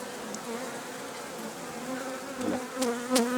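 Steady honeybee buzzing fills the clip, a dense droning hum with a few louder passes of individual bees close by near the end.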